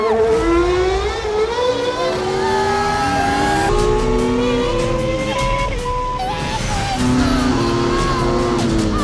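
A Formula 1 car howls around a track, its engine rising and falling through gear changes with a sharp high whine, loud and close and sustained throughout, no voices.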